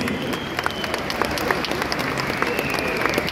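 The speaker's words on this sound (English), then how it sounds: "A round of applause for them also, please." Steady applause from the audience at the Chess Olympiad 2022 closing ceremony, dense clapping sustained throughout at an even level with no voices standing out.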